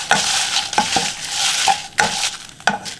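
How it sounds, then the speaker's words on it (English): Dried chilies toasting with a little salt in a pan give a close, loud dry sizzle, broken by repeated scraping clinks of a utensil stirring against the metal. "Now we're gonna toast our chilies. I add a little bit of salt so it doesn't burn."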